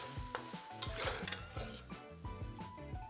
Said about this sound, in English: Cook that for a few minutes until the pork is cooked all the way through.